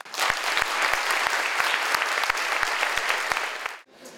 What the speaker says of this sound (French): c'est très rare qu'on entende autant d'applaudissements dans cette salle